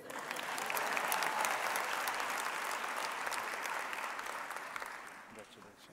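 An audience at an autumn university graduation ceremony applauds a student's award with steady, dense, fairly loud clapping that holds for several seconds, then slowly thins and fades.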